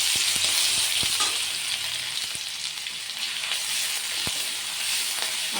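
Ginger-garlic paste frying in hot oil in a karai with bay leaf, cardamom, cinnamon and cloves, cooked for a Bengali doi katla fish curry; a steady, close sizzle runs throughout, punctuated by sharp clinks and scrapes of stirring.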